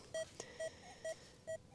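An XP Deus 2 metal detector sounds a low target tone, four short, evenly spaced electronic beeps in quiet open ground.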